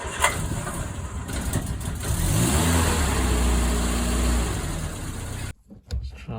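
A Triumph Spitfire sports car engine revs up with a rising then held drone and a few brief pitch sweeps, running loudly for several seconds before cutting off abruptly near the end, with no voices.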